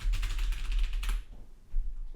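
Computer keyboard arrow keys being pressed while testing input in Unity, a run of close, soft clicking taps that thins out into a few faint sparse presses, with no talking.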